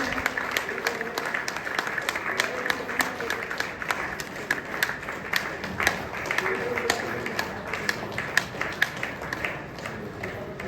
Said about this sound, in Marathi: सगळ्यांनी जोरदार टाळ्या वाजवून या सुवर्ण क्षणाचे साक्षीदार व्हा.